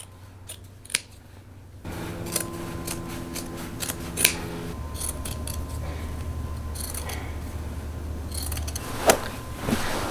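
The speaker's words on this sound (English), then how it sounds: "So I'm gonna cut out the pocket first" Scissors snip through fabric as a pocket is cut from old clothing, several sharp close cuts scattered over a steady low hum.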